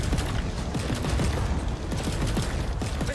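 Bursts of rapid gunfire from units opening fire in Halo Wars battle, a dense continuous rattle of overlapping shots with mechanical clatter, loud and steady throughout.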